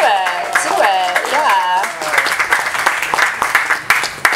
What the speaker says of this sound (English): Give yourselves an applause for being right.